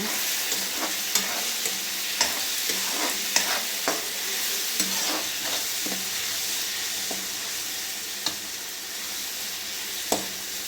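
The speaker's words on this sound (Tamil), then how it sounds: "வெங்காயம் தக்காளி நல்லா வதங்கிடுச்சு." Onions and tomatoes sizzle steadily in a hot pan, with scattered clicks and scrapes of a spoon stirring through the frying.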